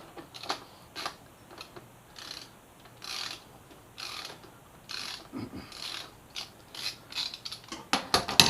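A hand ratchet clicks in repeated short bursts of rapid ticking, close and clear, while removing the front brake caliper bolts on a Yamaha FZ6R motorcycle, with no talk.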